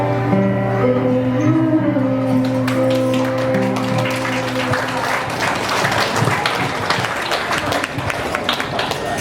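Guests applaud Pak Tom and Bu Nanu at their 50th wedding anniversary celebration, clapping swelling over sustained music and a speaking voice, growing denser and continuing to the end.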